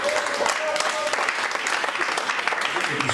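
A church congregation claps continuously in loud, dense applause throughout the short stretch, with voices mixed in.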